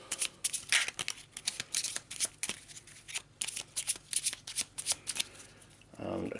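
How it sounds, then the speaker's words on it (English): A deck of game cards for a board game is shuffled in quick, close riffling bursts with a rapid, uneven rhythm, ending in a brief thud. "So quick shuffle."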